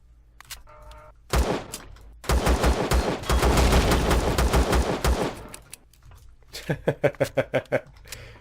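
Rapid bursts of automatic gunfire in the sci-fi survival game Empyrion, loud and near, with a quieter spell before a last short string of evenly spaced shots.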